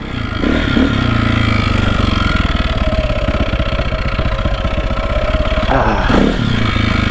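A 2001 KTM 453/400 RFS dirt bike rumbles along a muddy woodland trail, its engine steady and close with rhythmic throttle blips and a brief rev near the end.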